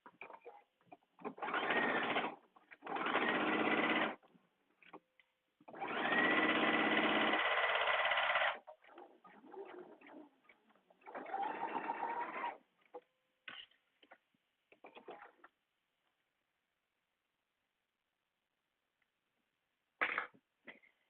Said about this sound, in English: looks like you're working on a fast sewing machine